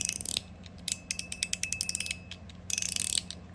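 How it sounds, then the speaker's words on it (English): A fidget toy's spring-and-ball mechanism clicks in rapid bursts of sharp ratcheting snaps with short gaps, loud and close, with no one talking. "So you'll get different clicks"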